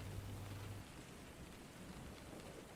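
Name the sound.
steady rain falling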